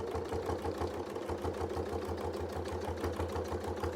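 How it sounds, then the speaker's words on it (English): A sewing machine doing free-motion quilting runs at an even pace, its needle chattering in a fast, regular mechanical rhythm with a low motor hum, close and steady without pause. "it's okay to just sew at a nice, even pace"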